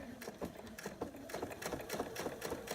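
A sewing machine stitches quilt binding at a quarter-inch seam, its rapid rhythmic needle clatter running in short uneven bursts close by.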